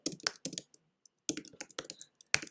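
Quick bursts of clacking keystrokes on a computer keyboard while writing in Google Docs, close and fairly soft, with a brief pause mid-way.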